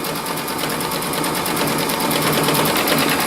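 An embroidery machine stitches a quilt block tacking line in ivory thread, giving off a fast, steady, high-pitched mechanical chatter that runs close and continuous throughout.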